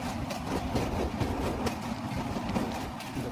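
A train crossing the Bally bridge in Kolkata, heard from on board as a loud, continuous rumble with rhythmic clickety-clack of wheels over rail joints.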